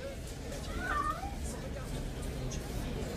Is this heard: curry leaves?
no